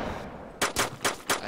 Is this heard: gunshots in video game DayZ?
yes